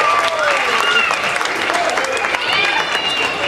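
Audience of parents applauding a young volunteer called up at a magic show, sustained clapping and crowd noise with voices and shouts mixed in throughout.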